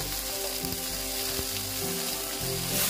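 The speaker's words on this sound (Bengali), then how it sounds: "একটু ভেজে নেব ঢেঁড়সটাকে। দেখো একটু হলুদ দিয়ে দিচ্ছি" Okra pieces fry in hot oil with a little turmeric for a Bengali bati chachchari, a steady, loud, close sizzle and crackle that runs unbroken throughout with no voices.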